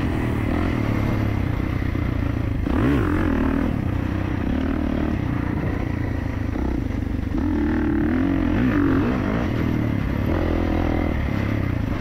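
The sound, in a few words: 2024 Kawasaki KX450 dirt bike riding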